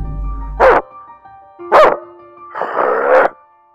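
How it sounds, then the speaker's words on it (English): A dog barks three times, loud and close: two short sharp barks about a second apart, then a longer, rougher bark, with quiet gaps between them. "That's a dog."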